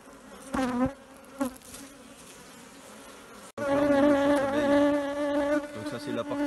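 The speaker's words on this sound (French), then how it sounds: "On peut faire descendre un peu les abeilles" Bees buzz around an open Warré hive on top bars during a honey harvest in Martinique. There are brief close passes at first, then a loud, sustained, many-toned buzz near the hive.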